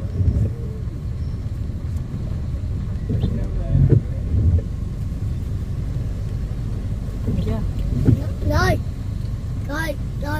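Motorbikes pass through a flooded street in Saigon's District 7, a continuous low engine rumble with water churning, louder surges as bikes go by close, while people talk and call out over it.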